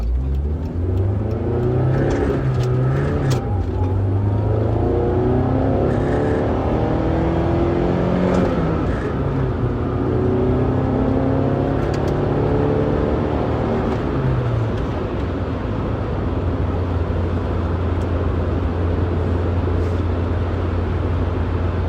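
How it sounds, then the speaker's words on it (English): A car accelerates hard through first gear and keeps pulling into second, the engine note rising in pitch, dropping at the shift, then climbing again, loud and close with no talking. "I pushed it kind of hard in first and kept the throttle down as I went up to second."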